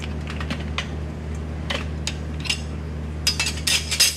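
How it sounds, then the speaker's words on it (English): Metal tire spoons lever a tire off an adventure bike rim, giving sharp, irregular clicks and scraping taps that grow denser near the end, over a steady low hum. "I'm going to put 3 or 4 spoons in here, trying not to go too deep and pinch my tube as I'm dismounting"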